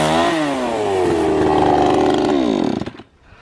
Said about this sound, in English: we have to trim the branches